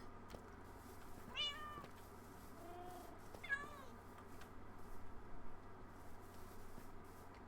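In the video game Township Tales, cats meow two or three times, short rising mews heard close but quietly over a steady low hum, with faint soft movement noises between them.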